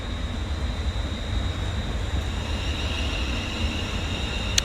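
A passenger train at Stafford station on the West Coast Main Line, a steady low rumble with a faint high whine, heard from the platform with no talk.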